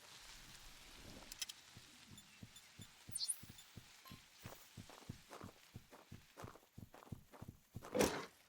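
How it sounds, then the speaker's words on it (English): Footsteps in the game Prehistoric Hunt thud in a steady, evenly spaced rhythm of soft muffled steps, moderately quiet, with a few sharper clicks and knocks among them. "I feel like I'm hearing some footsteps out and about here"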